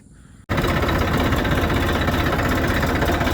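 After a brief quieter moment, a Massey Ferguson 241 tractor engine rumbles on loudly and steadily, idling close by with a constant throbbing vibration.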